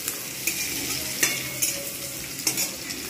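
Onions sizzle in a hot pan for a Bengali rohu fish curry, a close, steady frying hiss broken by several scraping stirs of a spatula at regular intervals.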